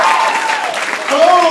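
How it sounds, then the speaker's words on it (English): Fan audience at an anime convention Q&A panel clapping, a short burst of crowd applause mixed with voices and cheering that carries through the whole moment. "Round of applause for the Grell."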